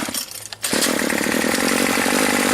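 A Cub BC 280 weed trimmer's small engine catches after a brief pull and then runs at a loud, steady buzzing rattle up close, with no talking.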